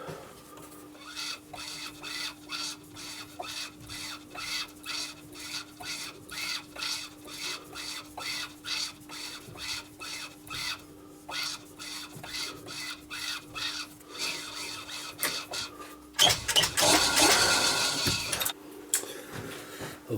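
Hand-cutting an M5 thread for an articulated holder: a steady run of evenly spaced rasping strokes, close and moderately loud, with a harsher, denser scraping burst near the end and no talking.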